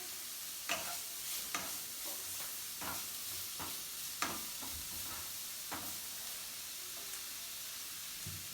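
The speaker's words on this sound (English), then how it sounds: "And let's stir." Millet noodles being stirred in a hot pan, with a steady close sizzle and hiss and intermittent scraping strokes of the spoon over the pan, with no voices.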